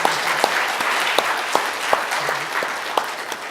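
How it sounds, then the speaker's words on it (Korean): A church congregation applauds fathers during a Father's Day service: a short burst of steady, moderately loud clapping from a seated crowd with a few sharper individual claps standing out. "아버지들을 위해서 한번 우리 박수 한번 칩시다."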